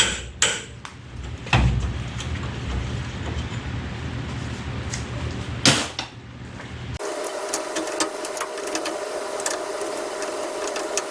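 Metal blows from a wrench beating on a Ford F350 front wheel bearing: a few sharp, loud clanks spaced apart over a workshop background, followed by a steady higher hum.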